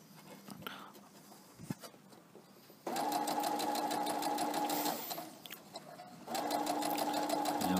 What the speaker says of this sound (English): it's one continuous sew across the top